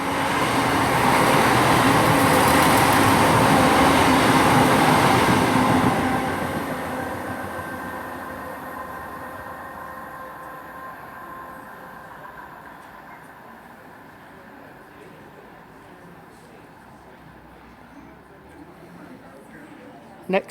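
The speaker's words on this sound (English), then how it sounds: "coming through now is a pass from Birmingham Snow Hill to London Marylebone, 168106" Class 168 unit 168106, running from Birmingham Snow Hill to London Marylebone, passes through Gerrards Cross station with a loud close rush of engine and wheels that then fades steadily into the distance.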